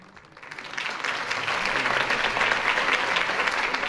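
Crowd applause from a political campaign rally in Batman: The Telltale Series swells up from quiet and holds as a dense, steady clapping wash.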